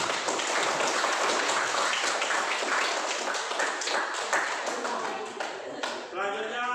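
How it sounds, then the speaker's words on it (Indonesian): Classroom applause follows a student group's presentation, a dense, steady patter of many hands clapping for several seconds before tapering off, with a voice starting to speak at the end. "Beri tepuk tangan."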